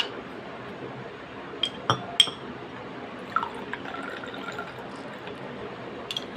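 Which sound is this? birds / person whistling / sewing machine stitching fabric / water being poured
water being poured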